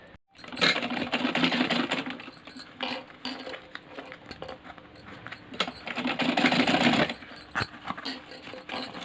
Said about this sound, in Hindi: इस तरह से यहाँ पर रख करके सिलाई करते जाना है।